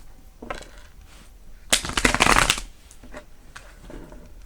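Playing cards are shuffled close by, with a soft riffle, then a louder flurry of rapid flicking, then quieter handling.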